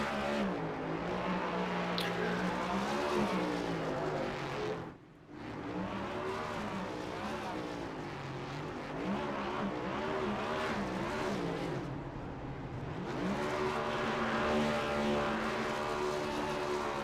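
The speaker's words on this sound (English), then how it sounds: "look for the standard burnout and engine blow" Race car engine roaring and revving continuously through a burnout in the Long Horn 400 racing video game, loud and close, with one brief dip in sound partway through.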